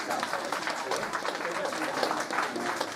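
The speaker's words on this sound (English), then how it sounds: "give them a round of applause for being finalists" Audience applause for finalists at a BristolCon book launch, dense steady clapping from a crowd filling the whole stretch at moderate loudness.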